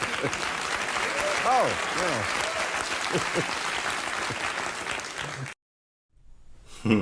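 A studio audience breaks into loud, sustained applause with a voice talking over it, then it cuts to near silence before a brief sound returns at the end.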